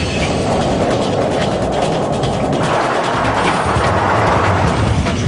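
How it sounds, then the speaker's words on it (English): An underground train pulls into a station platform, a loud, sustained rumble of wheels and rushing air with rail clatter that fills the whole stretch, no voices. "When a train enters an underground platform, it pushes a rush of air ahead of it."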